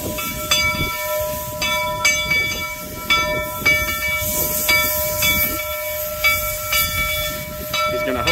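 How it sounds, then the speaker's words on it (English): A narrow gauge steam train rolls along the rails outdoors on a windy day, with a steady run of rhythmic clicks and clanks over a hissing, rumbling wash, close and fairly loud. "I did not get any video of the steam engine that's pulling that train"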